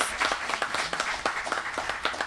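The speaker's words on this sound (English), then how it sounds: "Give them a round of applause." Applause breaks out in the audience at an International Women's Day awards ceremony in St. Kitts, a short burst of scattered, fairly distant clapping with no speech over it.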